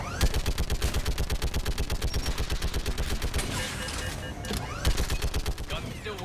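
A gun turret firing in Mass Effect 3, a steady rapid stream of loud, evenly spaced shots pounding for several seconds, briefly easing before resuming, with voices speaking over the clatter.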